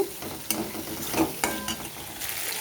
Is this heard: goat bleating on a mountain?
no